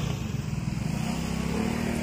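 Motorcycle being parked, its engine idling close by in a low, steady, slightly pulsing putter with a faint clatter.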